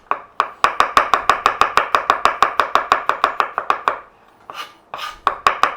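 Knife chops rhythmically through garlic on a cutting board, making thin slices: a steady run of close, crisp taps about four or five per second, a brief pause, then a few more cuts.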